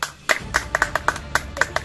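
Several people clap hands in an uneven rhythm, about a dozen sharp, close claps over a couple of seconds with faint voices underneath.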